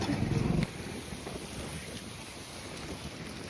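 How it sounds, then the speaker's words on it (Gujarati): Strong wind blows steadily across an outdoor microphone, producing a continuous broadband roar with a slightly louder gust at the start and no voices. "આ એક પવન આવે છે જોરદાર"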